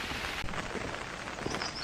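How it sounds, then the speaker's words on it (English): Rain falls steadily on the Isle of Skye near Dunvegan Castle, making a brief, even hiss of drops with no voices. "it's starting to rain a little bit more now"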